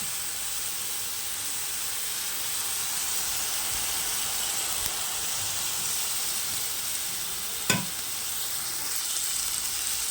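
Spices sizzle steadily in a hot pan during a home cook-up of taro with dried fish, a continuous broadband hiss with one brief sharp clatter near the end.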